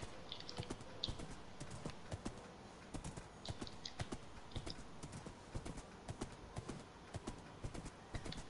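Rapid, steady video game horse hoofbeats clop along at a trot, fairly close and continuous, with a few faint higher clicks over a low background rumble.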